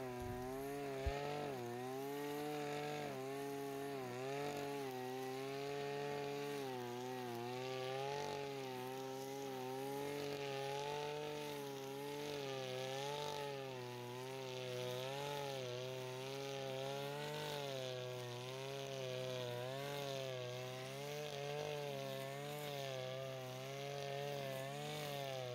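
A petrol brush cutter engine revving hard and continuously nearby, a loud droning whine that rises and dips in pitch over a long stretch.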